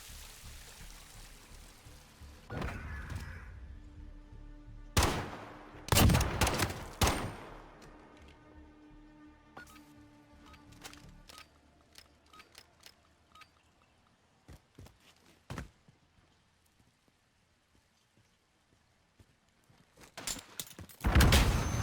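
Rapid bursts of gunfire in a 1v1 video game gunfight tournament match, with sharp shot clusters spread across the clip, a loud volley near the start and another at the end, with quieter stretches between.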